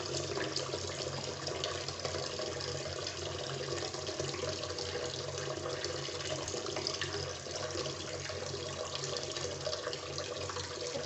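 Water runs from a tap at a sink to wet the face, a steady close rushing stream continuing unbroken throughout with no talking.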